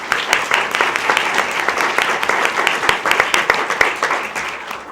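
A crowd at a school board meeting applauds students who placed in an academic competition, with dense, steady clapping that carries on evenly for several seconds at close to moderate distance.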